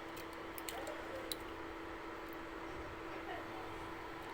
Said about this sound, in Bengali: সম্পূর্ণ পাস্তা আমি ঢেলে দিচ্ছি